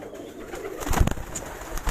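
Domestic high-flyer pigeons kept by a Karachi fancier coo in soft bursts, nearby and fairly quiet, over a low background of handling noise with a few sharper knocks.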